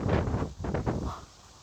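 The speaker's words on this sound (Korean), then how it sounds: "한겨울 같아 이렇게 바람이 불어요" Strong wind blows outdoors at an apartment complex, buffeting the microphone in loud rumbling gusts that ease off toward the end, with no talking.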